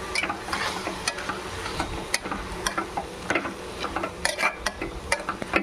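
Coriander leaves fry with tamarind in a pan for a coriander tomato chutney, giving a crackling sizzle broken by sharp clicks and scrapes of stirring, moderately loud and close, with no talk.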